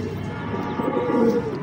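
Kabootarbazi pigeons coo in a brief low, rolling murmur over a dense background hum, close and moderately loud.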